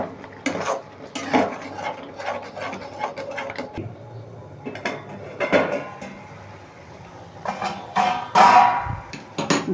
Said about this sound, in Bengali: ঢাকনাটা খুলে একটু দেখি, একটু নাড়িয়ে দিই মাঝে মাঝে।